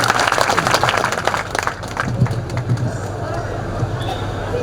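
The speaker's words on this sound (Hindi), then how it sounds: "मातू भाई जोरदार ताली के साथ स्वागत कीजिएगा सर" A crowd at a rural gathering in Rajasthan claps to welcome a speaker, producing a dense, loud burst of applause that thins into scattered clapping and background chatter.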